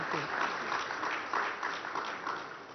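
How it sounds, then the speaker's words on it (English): An audience at a panel event claps warmly in a brief, steady burst, heard slightly muffled and somewhat distant while a voice talks over it. "Let's give them a very warm round of applause for that as well."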